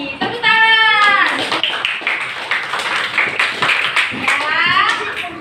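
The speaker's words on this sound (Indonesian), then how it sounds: "Tepuk tangan." An elementary school class claps hands together in a short burst of fairly close, loud clapping, with children's voices calling out before and after.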